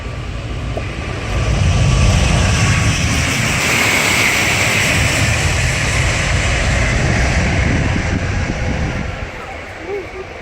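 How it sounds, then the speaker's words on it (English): An Airbus A380 airliner departs at the Farnborough air show with a loud, sustained roaring jet rumble and broad whooshing noise that swells then holds steady, wind buffeting the microphone. "The Airbus 380."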